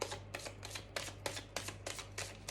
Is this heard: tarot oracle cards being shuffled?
yes